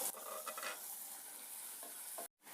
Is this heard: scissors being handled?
no